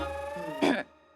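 A woman in a Hindi TV drama gives a single short, close cough that rises sharply out of a quiet room and fades fast.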